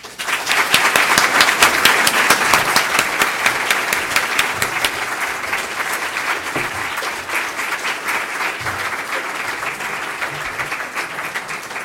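A club audience at a Rotary gathering applauds as two speakers are welcomed to the stage, loud sustained clapping from a room full of people that gradually eases but continues throughout.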